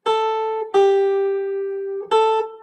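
The opening melody of a jazz standard is played on an instrument as three clear, sustained notes, the middle one held longest, close and alone.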